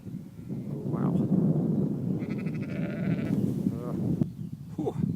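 Sheep bleat from a hillside slope, several wavering calls, some near and some farther off, over a steady background of wind.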